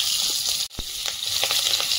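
Black cumin seeds and green chillies sizzle in hot fish-frying oil in a pan, giving a steady loud hiss that briefly drops out and then returns with small crackles and pops.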